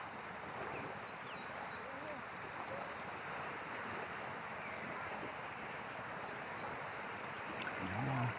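Sea waves wash continuously along a beach, with a steady broadband roar mixed with wind buffeting the microphone, unbroken for several seconds.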